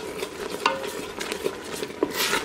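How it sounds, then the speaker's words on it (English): A spoon stirs a thickening apple taffy salad mixture in a pot, making soft scraping strokes with a few light clinks against the side over a low bubbling background. "I would say I've been stirring this probably like 7 or 8 minutes."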